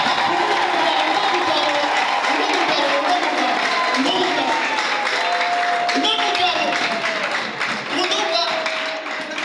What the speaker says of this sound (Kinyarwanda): Numva ariko tumuha amashyi y'umugabo